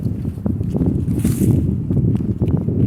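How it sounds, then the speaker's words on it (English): Gusting wind buffets a microphone outdoors on a farm, producing a loud, uneven low rumble with soft rustling over it and no clear voices. "sorry about the wind."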